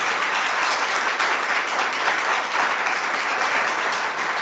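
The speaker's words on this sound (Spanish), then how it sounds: "cuya labor concluye con un aplauso general de nuestros académicos" Members of a Colombian military history academy give a general round of applause during a formal session, a steady, full wash of clapping from a roomful of people lasting several seconds.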